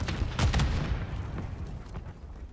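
Mortar strike explosions in the Warzone video game, a few muffled booms and thuds clustered early then fading into a low rumble, moderately quiet.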